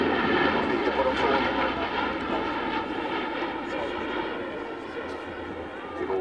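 A loud, steady propeller drone from a Hercules aircraft flying overhead at a 1995 air show at F10 Ängelholm, Sweden, its outer engines out and flying on two, sustained throughout and slowly easing slightly in level.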